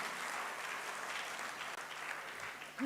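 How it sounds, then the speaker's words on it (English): A seated audience at a CSIR-NCL Pune science event claps for the institute, a faint, even, sustained round of applause from a crowd heard at a distance. "that's a huge round of applause for NCL"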